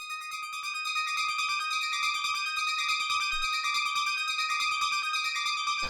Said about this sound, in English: And the last layer down here is the synth Atmos